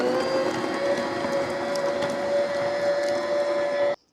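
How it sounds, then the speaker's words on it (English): A stand mixer beats room-temperature salted butter until creamy, a loud steady motor whine with a constant tone and gentle rattle running close up for about four seconds before cutting off abruptly; no one speaks. "Put it in your mixer with 1/4 cup of room temperature salted butter."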